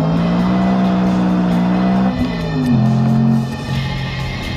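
A BMW M3's 4-liter V8 engine, which redlines near 9,000 RPM, revving loudly up close, holding a high steady pitch, then dropping and rising again as the revs shift.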